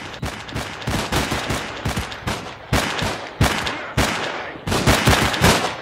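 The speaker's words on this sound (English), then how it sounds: "Alright, our guys are already shooting." Rapid gunfire from S.T.A.L.K.E.R.: Clear Sky, with repeated sharp shots and short bursts that come thick and loud across the whole stretch, with brief gaps between the volleys and no talk.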